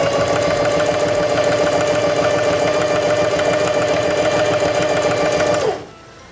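A Singer 4411 heavy duty sewing machine stitching a seam, a loud, fast, even mechanical whir and rattle that runs steadily and then abruptly stops near the end.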